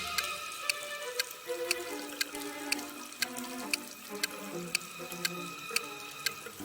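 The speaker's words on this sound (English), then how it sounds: "a room that's slowly getting filled with water coming from a faucet on the wall" Water pouring from a wall faucet into a sealed room, a steady rushing stream joined by a regular ticking like a clock, with bright evenly spaced clicks over a background of music, no talking.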